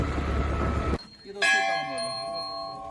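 After a burst of noise cuts off, a single metallic temple bell strike rings out clearly and decays slowly with a lingering tone.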